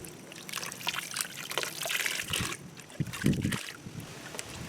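Dirty water trickles and drains from a raw wool fleece during outdoor scouring, a close, uneven splashing and dribbling that swells briefly near the end, with no talk over it.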